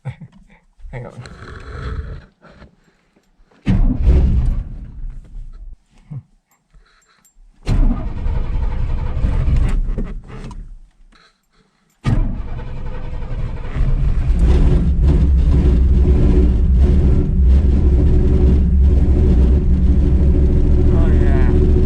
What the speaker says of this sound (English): Alright, we're gonna do a cold start for you.